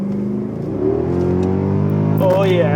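A Mercedes W211 E63 AMG in sport mode revs up, its engine tone climbing steadily and loudly from close by, with a brief spoken exclamation over the rising note.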